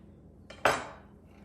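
A cut cucumber lands in a container for old-fashioned refrigerator pickles, a single close clattering clink against the dish with a short ringing decay, heard alone.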